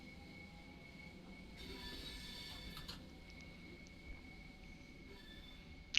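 A train passes in the Train Sim World 3 game, a steady rumbling roll with a high metallic squeal running through it and a few faint clicks, fairly quiet and alone.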